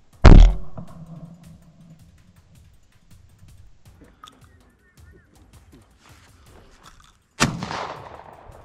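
A single loud, close shotgun blast while hunting guineafowl in Senegal, followed by quiet field ambience and someone talking, then a second sharp burst near the end.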